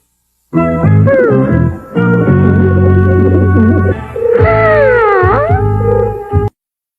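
A small injured bird in an animated series cries out in loud, wavering calls with sliding pitch, in several drawn-out phrases separated by short breaks.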